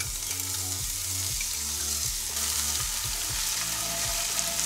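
Two chilies and two garlic cloves fry in olive oil in a skillet, a steady close sizzle with a few light stirring scrapes and no talking.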